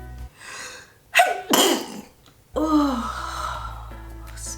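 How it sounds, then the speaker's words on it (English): A loud human sneeze preceded by a sharp gasping inhale, then a second forceful sneeze burst, followed by sighing breath and a low background hum; close and alone without talk. "I sneeze loud."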